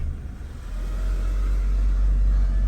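A 1998 Galant with a five-speed, warmed up and idling high, gives a steady low engine rumble close by that swells slightly and then holds, with no talking.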